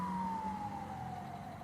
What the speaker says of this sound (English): All you hear is ambulance sirens day and night taking people to the emergency room?